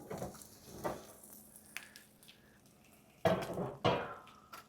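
Cast iron pizza pan lifted out of the oven and set onto the stove, producing a few sharp metallic clanks and scrapes between quieter gaps.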